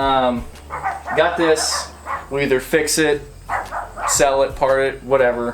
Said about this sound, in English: the neighbor dogs.